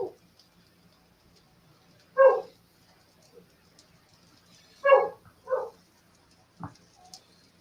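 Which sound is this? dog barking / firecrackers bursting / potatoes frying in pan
dog barking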